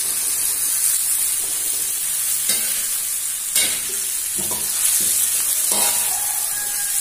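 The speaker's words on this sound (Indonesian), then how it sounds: "Tumis sampai harum," Water spinach stir-fried in a pan gives a close, continuous hiss and sizzle, with scattered scrapes and knocks from stirring and no talk.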